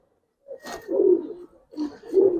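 Giribaz and khaki pigeons coo up close in two clear, rolling calls separated by a brief pause, with a short flutter at the start.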